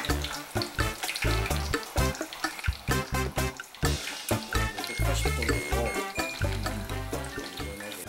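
Pear pieces deep-fry in hot oil with a constant hissing sizzle, broken by repeated sharp clatters and knocks.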